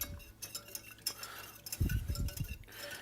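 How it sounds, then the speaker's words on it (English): A spoon stirs a tablespoon of butter into a vinegar pan sauce, giving soft scraping and light metallic clinks against the pan, quiet and close, with a brief low rumble partway through. "Now we've got about a tablespoon of butter. We're gonna stir that in."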